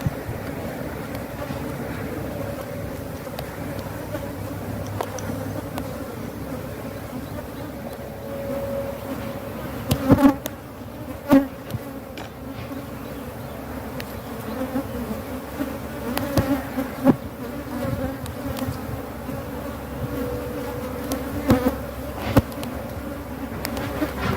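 Honeybees from a defensive hive buzz in a continuous, droning hum that fills the air, with occasional louder thumps and bumps breaking through the steady swarm sound.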